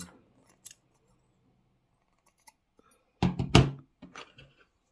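Scissors snip through crochet yarn while fastening off a beginner's crochet dress, a few quiet clicks early on and then a louder cluster of close, crisp snips near the end.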